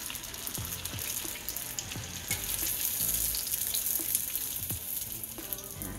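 Pizza egg rolls fry in hot oil with a steady, close sizzle and crackle, punctuated by a few soft knocks throughout, with no talking.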